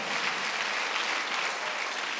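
A church congregation at a Sunday service claps together, a dense, steady wash of applause filling the whole moment at an even level without a break.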